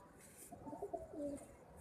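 A pigeon being handled by a keeper gives a few soft, low cooing calls in a quiet setting with faint background hiss, near and gentle, with no talk over it.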